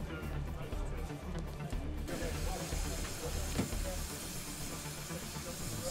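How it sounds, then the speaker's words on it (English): Steam locomotive Tjepper No5 hissing steadily as it raises steam at Statfold Barn on a sunny day, a continuous broadband hiss with low rumble beneath, fairly close and unbroken throughout. "there she is raising steam"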